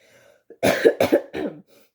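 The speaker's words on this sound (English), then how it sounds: "Pardon my coughing." A few close, harsh coughs in quick succession, followed by a brief throat-clearing rasp, with quiet moments before and after.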